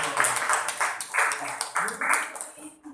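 Clapping from a group in a classroom or training session, coming in several short rhythmic bursts that are fairly loud and close, with little else around them.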